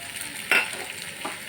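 Crab curry spices, turmeric and chilli powder fry in oil, giving a soft steady sizzle with a couple of brief scraping stirs, close by and without any talking.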